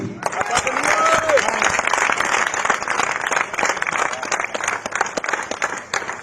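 An audience applauds a first-place winner, steady dense clapping that holds loud for the whole stretch, with a voice briefly speaking over the start.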